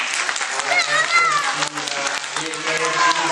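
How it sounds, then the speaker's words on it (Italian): An audience at a children's fairy-tale reading applauds steadily and fairly loudly throughout, a dense continuous clapping with a few voices mixed in. "Un applauso."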